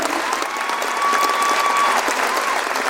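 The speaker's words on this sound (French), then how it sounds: "On peut encore les applaudir bien fort pour cette magnifique reprise" Sustained applause from an audience after a school choir's performance of a song adaptation at a New Year's greetings event in Belfort, a dense, steady wash of clapping with a faint whistle-like tone running through it.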